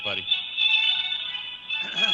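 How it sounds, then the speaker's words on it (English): A phone rings steadily during an unanswered call, a continuous electronic tone held for about two seconds, close and fairly loud, with voices briefly at the start and end. "Yeah, that's a lot of ringing."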